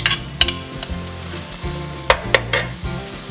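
Chorizo hits a hot pan for frijoles charros and sizzles loudly up close, broken by a few sharp spoon clinks and stirring knocks over about three seconds, with no voices.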